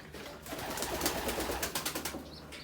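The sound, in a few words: pigeons (gök breed) cooing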